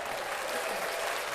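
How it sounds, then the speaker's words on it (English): A live-show audience claps steadily and briskly, a thick, even wash of applause throughout the brief moment. "Let's clap that up."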